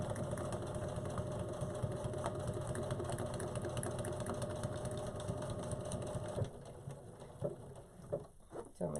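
A sewing machine stitches the seams of a pillow for a heat press, its steady mid-pitched motor hum running close and continuous before breaking into short bursts with pauses near the end.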